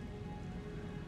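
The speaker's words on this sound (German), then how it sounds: "Platzregen." Steady, hissing downpour in the video game Elden Ring, an even wash of rain noise that stays constant and fairly quiet throughout the short stretch, with no voices over it.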